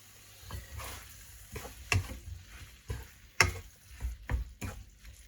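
Pad thai stirred and tossed in a hot pan, with scattered scrapes and clatters of the utensil over a soft sizzle, several sharper knocks standing out, close and fairly quiet, no talking.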